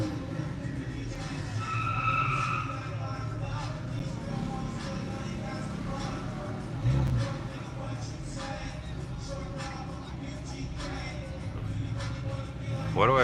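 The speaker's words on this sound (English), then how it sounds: "This guy's smoking his tires over here." Cars rev and spin their tires into smoke at a nighttime street takeover in Miami, a continuous roar of engines and squealing rubber at moderate distance with voices talking over it.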